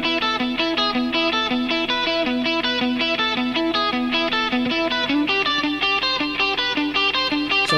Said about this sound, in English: And then the guitars, they sound like this.